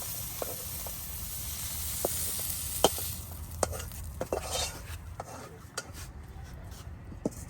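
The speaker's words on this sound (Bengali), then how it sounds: "এই যে ফুলকপিগুলো ভাজা হয়ে গেছে সুন্দর করে ভেজে নিচ্ছি" Cauliflower frying in a pan, a continuous close sizzle broken by sharp metallic clinks and scrapes of a spatula stirring the pieces at irregular intervals.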